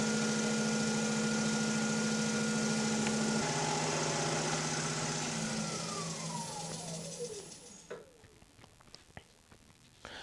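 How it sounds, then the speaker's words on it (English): A wood lathe spins a sycamore and oak pedestal bowl with a steady whirring hum that winds down and stops, followed by faint scattered taps and clicks. "Spin up the lathe"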